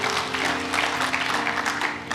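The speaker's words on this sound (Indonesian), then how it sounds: "Tepuk tangan buat Tuhan, haleluya." A church congregation applauding during a sermon, continuous mixed clapping under a sustained organ-like tone, close and fairly loud.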